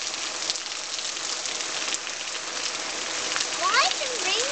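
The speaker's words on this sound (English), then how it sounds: "Why is it raining so hard?" Heavy rain pours steadily outdoors in a late-summer storm, a dense continuous hiss of drops, with children's voices and faint squeals breaking through near the end.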